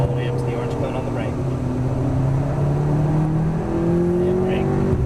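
McLaren MP4-12C on a racing track, engine note rising steadily as the car accelerates, loud and close from inside, under a continuous rumble.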